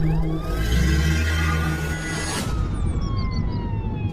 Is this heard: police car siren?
yes